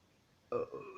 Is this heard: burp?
yes